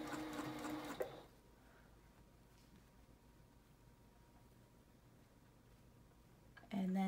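A sewing machine stitches fabric for a baby lovie in a short, loud whirring burst at the start and again briefly at the end. Quiet room tone fills the gap between the bursts.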